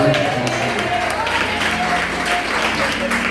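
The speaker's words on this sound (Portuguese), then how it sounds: "A igreja pode aplaudir." A church congregation applauds during a worship service, loud continuous clapping mixed with voices and a sustained musical tone underneath, filling the room throughout.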